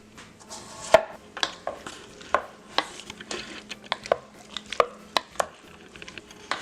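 Knife dicing vegetables for salsa on a cutting board, a series of close, crisp irregular chops spaced through the clip, with no talk.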